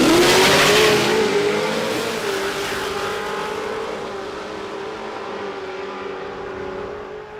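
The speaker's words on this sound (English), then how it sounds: "when they roll down on the engine there, I love it when that engine can make that noise" A drag racing car's engine at a radial-class race meeting revs loud and close, then holds a steady drone and slowly rolls down as it fades over several seconds.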